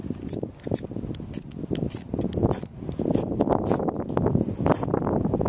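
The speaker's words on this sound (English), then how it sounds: "I'm going to try to start this jute twine with my ferrocerium rod." Knife blade scraped along a ferrocerium rod outdoors to ignite jute twine, giving repeated short, sharp scraping strikes in an irregular rhythm, close up, over steady wind noise on the microphone.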